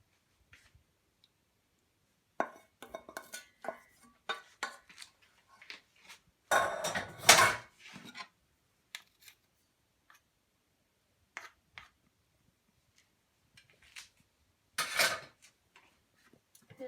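Cutting and serving slices of fruit custard tart, sparse clinks and scrapes of cutlery against a plate with quiet pauses between, one louder clatter midway and another near the end.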